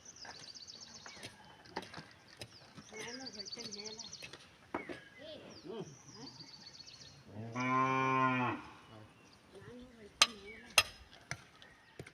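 A cow gives one long, loud moo partway through, amid scattered bird chirps, outdoor rustling and occasional speech, on a farm where fields are ploughed for sowing with bullocks.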